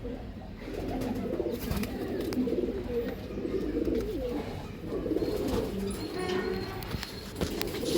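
Several pigeons coo in soft, overlapping murmurs, with faint rustling and distant background noise throughout.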